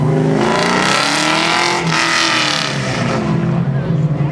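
An LS2 V8 race car engine roars loudly and close at an autocross event, revving and shifting pitch as it accelerates and lifts off the gas, a deep throaty rumble throughout.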